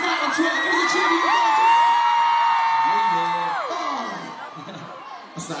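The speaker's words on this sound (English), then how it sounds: "Who's going to follow us tonight on Twitter? Give us a cheer." A crowd of young concertgoers cheering and whooping loudly at a show in Utrecht, a sustained roar of shouts and yells that slowly fades, with a voice calling out near the end.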